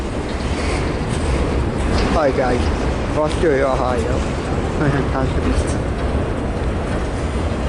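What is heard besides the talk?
long CSX freight train with GM car haul passing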